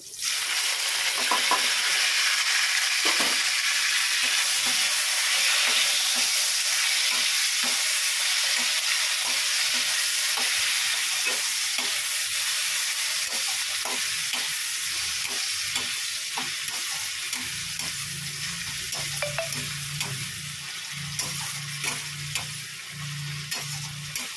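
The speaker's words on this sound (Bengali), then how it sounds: "আর একটু পেঁয়াজ ভেজে নিচ্ছি।" Onions fry with whole cardamom and cinnamon in a pan for egg korma, giving a loud, continuous sizzle broken by repeated scraping clicks of a spoon stirring, which ease into a softer hiss near the end.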